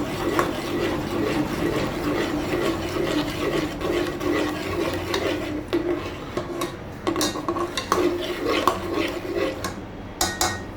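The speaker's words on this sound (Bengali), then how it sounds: "এখন খুব ভালোভাবে নেড়ে নিচ্ছি।" A utensil scraping and clinking steadily against a pan while homemade tomato sauce with chopped garlic, salt, chili powder and sugar is stirred over heat, with a continuous busy clatter throughout.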